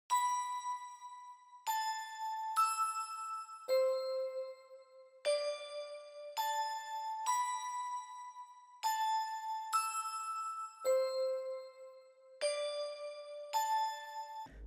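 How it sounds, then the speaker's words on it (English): Wavestation ballerina bell synth plays a sparse pattern of separate chiming notes that step between a few pitches, each ringing bright and clear with a short decay, alone and fairly quiet. "So then the next thing I added was this wave station bell."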